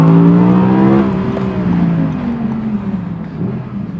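A Porsche Carrera GT's V10 engine passes with a high, rising-then-falling wail that fades as it moves away, echoing off surrounding buildings.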